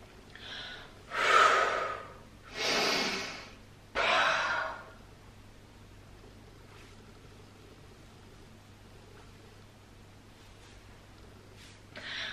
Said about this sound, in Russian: когда я выдыхаю, производится такой вот звук, не стесняясь, изо всех сил